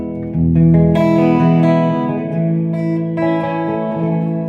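Sustained chords on a 2009 Epiphone Wildkat electric guitar ring out with a lush, washy spring reverb tail from a TC Electronic Hall of Fame 2 pedal, new strums at intervals blending into the lingering decay.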